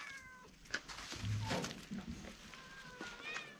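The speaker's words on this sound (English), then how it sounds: "They have so many cats right there." Cats meow in a narrow lane of an old red mud-brick mountain village in Iran, with faint short cries at moderate distance among quiet outdoor ambience and a low hum.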